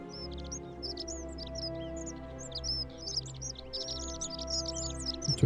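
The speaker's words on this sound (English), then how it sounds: "Birds." Birds chirping in the video game The Forgotten City, quick bright tweets and short calls repeating in clusters over a low ambient hum, moderately close with no talk.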